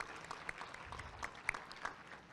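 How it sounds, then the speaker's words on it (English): A faint, thin patter of clapping from a Chamber of Commerce luncheon audience, fairly distant and brief, scattered sharp claps standing out. "Let's give them a round of applause."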